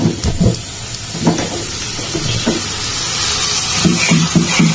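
Spice paste masala for khichuri frying in a pot, a loud continuous sizzle and hiss with intermittent scraping clatters of stirring, heard close up with no speech.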